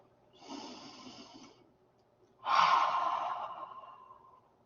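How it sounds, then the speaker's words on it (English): Two slow, deep breaths during a guided relaxation exercise for test anxiety: a soft inhale, a pause, then a louder, longer exhale that fades out, close and with no talking. "one last deep breath"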